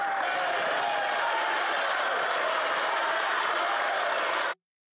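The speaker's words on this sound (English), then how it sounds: "He muted the cheering." Cheering in the House of Commons during Question Period: a dense, sustained roar of many voices, steady and fairly loud, that cuts off abruptly into silence.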